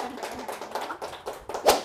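Brief, faint scattered hand claps from a small indoor audience at a 41st birthday gathering, a short burst of uneven taps with one sharper clap near the end.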